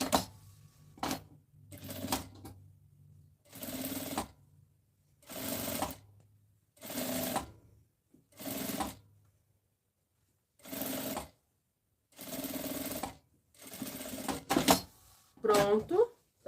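A sewing machine stitches two zippers in short bursts of rapid mechanical whirring, about nine separate runs with silent pauses between them. The machine is close and clear, and someone talks quietly at times.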